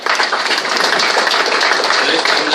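A crowd breaks into dense, sustained applause, many hands clapping together loudly and continuously from start to finish.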